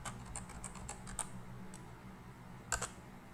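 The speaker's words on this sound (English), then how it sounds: "type the command git init" Keys clacking on a computer keyboard as a git command is typed, a few quiet scattered keystrokes and a brief cluster near the end over a low steady room hum.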